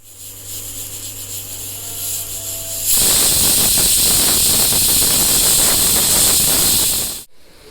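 A pressure cooker cooking vegetable biryani builds up, then lets out a loud, sustained whistle-hiss of escaping steam for several seconds before stopping suddenly.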